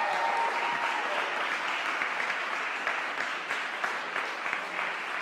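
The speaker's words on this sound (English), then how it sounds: "Let's hear it for Matteo." Steady, dense applause from a live audience at a UK Brewers Cup 2022 coffee-brewing semi-final in London, continuous and fairly loud throughout with no speech over it.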